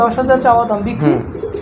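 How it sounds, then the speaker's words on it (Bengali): Red-necked high-flying pigeons coo in a series of close, clear throaty calls, with a few chirps mixed in and people talking nearby. "এই যে লাল গলা কবুতর"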